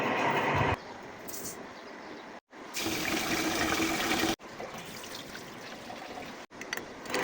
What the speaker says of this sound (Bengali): এখানে বিরিয়ানি রান্নার জন্য আমি আগেই পোলাও চালটা ধুয়ে নিচ্ছি।